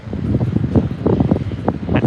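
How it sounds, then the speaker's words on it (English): Strong wind buffets a microphone outdoors on a blustery day near the SpaceX Starbase main gate. The gusts make low, irregular rumbling thumps that are loud and close. "Yeah, beautiful day. It is windy here. Yep, it is windy."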